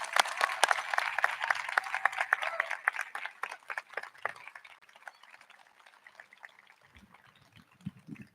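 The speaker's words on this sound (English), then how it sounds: "So a final round of applause for all of our donor groups." Audience applause for donor groups at a Scriber Lake High School event, a dense crackle of clapping that is fairly loud at first, then thins and fades over several seconds as a few scattered claps and a low voice remain.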